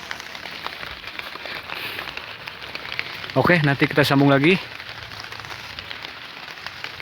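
Steady rain falling beside a shaded catfish spawning pond, a dense continuous hiss and patter throughout, with someone briefly speaking partway through.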